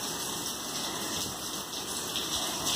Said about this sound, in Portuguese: Olha a chuva, gente.